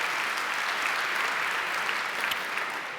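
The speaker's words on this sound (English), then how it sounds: "That's the part where you clap." A conference audience at Scale 2015 claps, a dense and steady burst of applause from a large crowd that holds loud throughout and eases slightly at the end.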